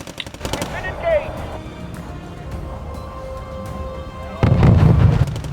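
Battle gunfire in the video game Wargame AirLand Battle, with rapid bursts of shots at the start, a quieter stretch of distant firing under a voice, then a louder burst of fire near the end.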